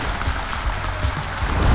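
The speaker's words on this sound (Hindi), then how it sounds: "तालियों के साथ उनका स्वागत।" A studio audience on a television quiz show applauds to welcome contestants, with dense, loud, continuous clapping throughout and no talk.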